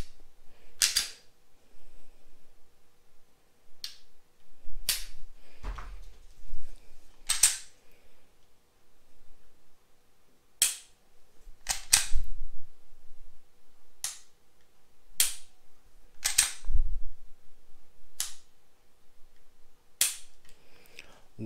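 Dry-fire trigger pulls and resets on an empty Canik TP9 Elite SC pistol: about a dozen sharp, close metallic clicks at irregular intervals, several with a softer reset click or handling thump nearby, no talking.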